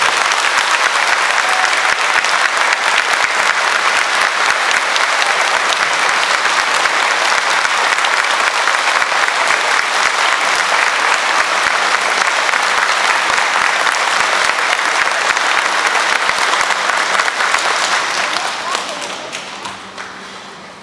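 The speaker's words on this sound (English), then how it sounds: "I want to make sure we specifically give Mr. Bud Becker a round of applause today" Sustained, loud audience applause at a school Veteran's Day program honoring World War II veteran Bud Becker, dense clapping lasting about eighteen seconds before tapering off at the end.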